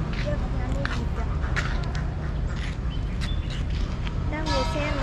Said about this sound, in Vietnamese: Kia có nhà nuôi vịt kìa.